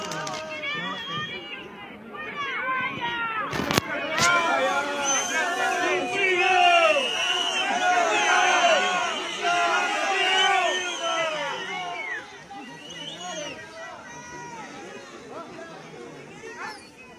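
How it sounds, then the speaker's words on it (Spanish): A tense crowd at a funeral boos and jeers the president of the republic as he steps out, a dense swell of shouting voices rising loud, then easing toward the end. "Y el abucheo, a ver."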